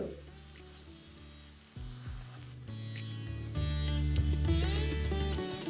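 Corn breakfast snack frying in a pan with garlic and chillies, a steady close sizzle that grows louder and denser toward the end, with faint background music tones.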